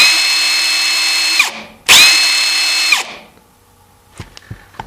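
Ridgid 18V brushless 1/4-inch pulse driver (R86036K) running free, two loud steady high whines that each stop abruptly, followed by a few quiet clicks and handling taps.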